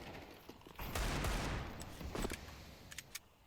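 Rapid gunfire bursts in a tactical shooter video game, sprayed through a smoke cloud, with dense automatic fire early on and a few sharper single shots trailing off near the end.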